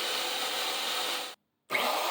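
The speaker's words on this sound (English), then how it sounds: "here I'm sanding off the part where I had filled in with some wood filler and vacuuming up the dust that I created" Wood filler being sanded off a wooden box, a steady broadband rasp with a vacuum drone, then a short gap of silence before the harsh sanding-and-suction noise resumes.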